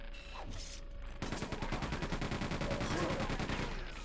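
A chain gun in Quake 2 spins up and fires a rapid, evenly spaced stream of shots that runs unbroken for several seconds after a short quieter lead-in.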